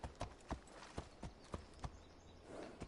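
Rhythmic clip-clop of horse hooves trotting at a steady pace in Assassin's Creed Odyssey, crisp and fairly close, with no talking.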